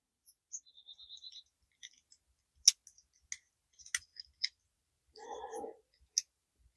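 An old pair of scissors handled up close, giving sparse sharp clicks and ticks spaced irregularly through near silence, with one short buzzing rattle midway.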